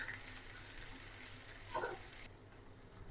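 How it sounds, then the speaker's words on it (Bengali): Chopped onions and green chillies frying in hot oil, a steady soft sizzle with a brief crackling burst near the middle before it drops quieter, close by with no talking. "লাল লাল করে ভেজে দেবো পেঁয়াজ আর কাঁচামরিচ"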